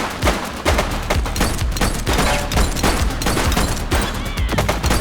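Heavy gunfire in The Precinct, a rapid, dense barrage of loud shots in quick irregular bursts over the full stretch, close and unbroken, with no voices.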